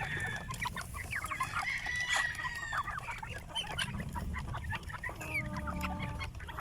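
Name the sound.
free range chickens clucking on a farm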